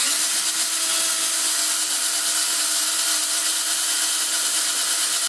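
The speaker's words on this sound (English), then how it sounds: "I'm just going to insert this bit in my drill, and I'll be drilling approximately 1 inch inside there" Steady, loud whine of an electric drill boring about an inch into a stripped exhaust thread hole in metal, continuous and unbroken throughout with a dense, gritty high-pitched hiss.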